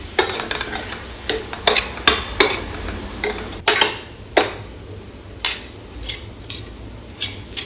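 A spoon stirs tomatoes into tofu masala for a chapati roll filling, scraping and clinking against the pan in a loose rhythm of sharp taps over a low background sizzle.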